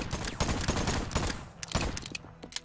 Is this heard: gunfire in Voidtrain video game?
yes